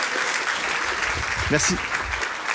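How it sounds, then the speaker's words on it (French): A congregation applauds at a baptism celebration, a steady wash of clapping that fills the whole moment while a single voice briefly speaks over it. "On les applaudit bien fort s'il vous plaît."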